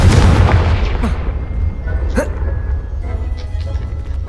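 A Confringo explosive spell blast in the Hogwarts Legacy video game: a loud, heavy boom at the start that decays into a rumbling tail, followed by smaller popping impacts and game effects.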